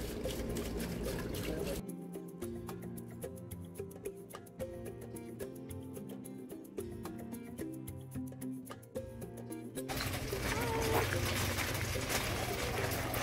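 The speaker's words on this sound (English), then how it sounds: "Water. Yeah, a water wheel." Water runs over a water wheel outdoors at a ranch, a soft continuous trickle and splash with faint bird calls, briefly masked by a louder wash of noise toward the end.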